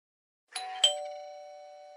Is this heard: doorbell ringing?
yes